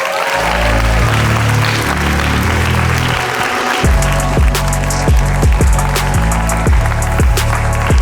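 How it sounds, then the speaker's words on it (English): Loud, sustained clapping from a conference audience at a leaders' forum swells in and continues densely to the end, layered over steady background music. "Please shower him with a round of applause."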